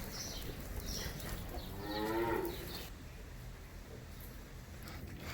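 Cattle in a dairy barn give one long, loud moo at close range, with fainter lowing and barn noise before and after it.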